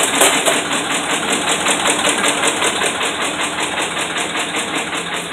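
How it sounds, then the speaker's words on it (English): A Dodge Ram Hemi engine with bad crank and rod bearings runs close and loud with a rapid, regular knocking beat. It holds a steady rev throughout with no talking. "rev up the motor just a little bit"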